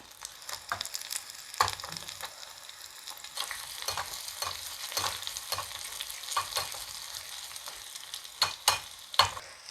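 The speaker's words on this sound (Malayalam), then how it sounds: "കുറച്ച് എണ്ണ ഒഴിച്ച് അതിലേക്ക് കടുക് ഇട്ട് കൊടുക്കാം കടുക് പൊട്ടിക്കഴിയുമ്പം നമുക്ക് കുറച്ച് ചെറിയുള്ളി അങ്ങോട്ട് ഇട്ട് കൊടുക്കാം" Steady sizzling and crackling of mustard seeds and shallots frying in oil, with sharp pops and occasional scraping stirs throughout, close and moderately loud.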